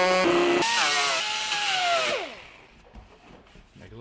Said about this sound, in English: Trimming some fenders off now?